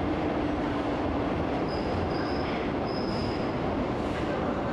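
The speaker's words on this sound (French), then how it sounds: "Notre rame va prendre place sur la voie de rebroussement munie d'un petit quai permettant au conducteur de rejoindre l'autre cabine de conduite." A Paris Métro line 3 bis train moves onto the reversing track at its terminus. It rumbles steadily and close, with thin wheel squeals rising above the rolling noise.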